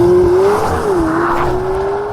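A 2018 McLaren 720S with its V8 pulls hard and loud from close range, a sustained rising engine note with a brief dip as it shifts, then climbing again under continuous tire and wind roar.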